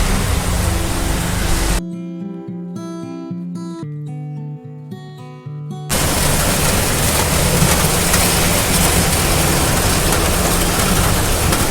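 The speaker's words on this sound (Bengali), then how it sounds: "খুব বৃষ্টি পড়ছিল আটটার সময় এলাম ঝমঝমিয়ে বৃষ্টি" Loud, dense rain pours steadily, broken in the middle by a few seconds of tonal music before the downpour returns.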